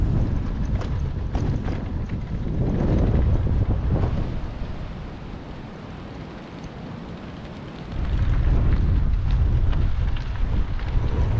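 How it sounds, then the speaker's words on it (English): Strong wind gusts buffet a cyclist climbing Columbine Pass in the Uncompahgre National Forest, a loud roaring rush that swells, eases for a few seconds, then surges back hard. "as fast as these gusts would come, so they would subside"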